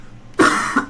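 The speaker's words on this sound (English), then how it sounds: "I'm going to be happy to have a bit of a coughing fit" A single harsh cough from an esports commentator with a cold, close to the microphone during a Dota match broadcast, a short double burst after a brief quiet moment.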